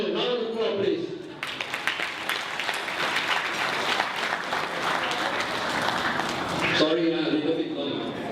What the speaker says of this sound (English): Give Mr. Daniel a round of applause, please.